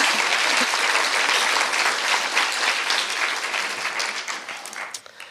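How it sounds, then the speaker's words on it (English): A large audience at an art prize celebration bursts into loud, sustained applause and cheering that slowly tapers off over several seconds. "let's hear a big cheer for her."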